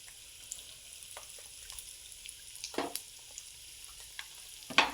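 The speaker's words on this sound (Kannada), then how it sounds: "ಇಲ್ಲಿ ಸ್ವಲ್ಪ ಗೋಡಂಬಿನ ಹಾಕಿ ಫ್ರೈ ಮಾಡ್ಕೊತಾ ಇದ್ದೀನಿ" Cashews frying in a pan with asafoetida, salt and turmeric make a soft, steady sizzle under scattered clicks and stirring scrapes, fairly faint and without voices.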